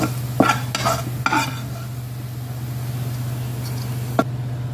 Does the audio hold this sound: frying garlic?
yes